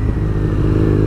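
A BMW R nineT two-cylinder motorcycle rumbles loud and close with a steady, throbbing engine note while being ridden, with no braking clearly picked out.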